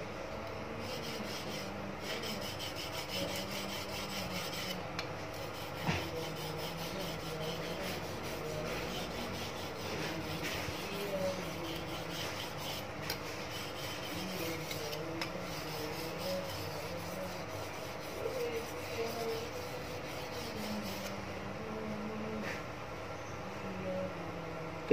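A knife blade is sharpened on a whetstone with continuous, rhythmic scraping strokes. The steady rasping keeps an even back-and-forth cycle at close range for the whole stretch, with no talking.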